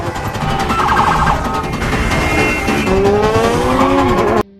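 A motorcycle skids and slides in a film action scene, a loud continuous engine-and-tire screech with rising squealing tones throughout, stopping abruptly near the end.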